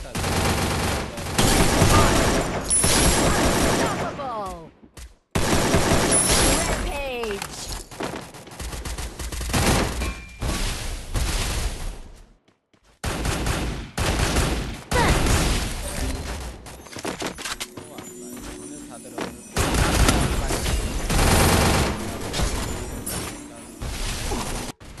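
AK-47 rifle fire in a shooting video game: dense, loud bursts of rapid automatic gunfire running almost throughout, with brief pauses between volleys and game effects mixed in.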